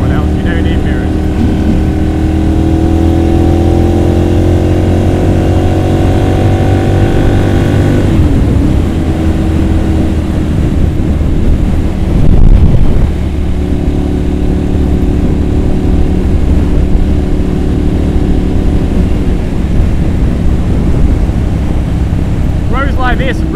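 Ducati Monster 796 S2R engine while riding, a loud, steady drone with a smooth rise in pitch, a brief dip around a gear change, then climbing again under constant wind rush.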